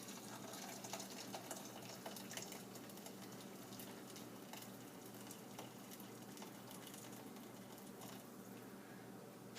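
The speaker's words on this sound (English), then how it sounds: "carefully, because this is hot, you just start pouring through" Hot homemade vegetable broth poured through a strainer, a quiet continuous trickle and splash of liquid running steadily through the whole stretch, with no talk.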